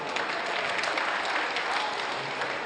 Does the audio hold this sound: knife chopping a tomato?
no